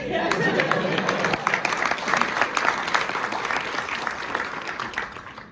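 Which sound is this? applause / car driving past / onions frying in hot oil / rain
applause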